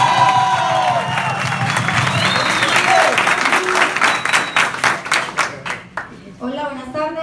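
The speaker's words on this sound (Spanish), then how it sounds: "entonces quiero un aplauso para él." An audience at a business results event in Medellín bursts into loud applause with cheering and whoops. The crowd noise thins into individual sharp claps, and a voice starts speaking at the end.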